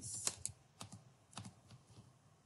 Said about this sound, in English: Since I'm using APA style, I will type references.